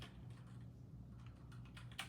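A computer keyboard being typed on: soft, quick clicks and taps in an irregular run, quiet and close, with one sharper keystroke near the end and no talking.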